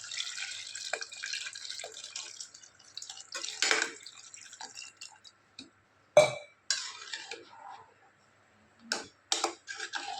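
Water is added to boiling masala for plain salna in a cooking pot, giving scattered close drips and splashes with a few sharper ticks of metal, fairly quiet, with gaps between the sounds.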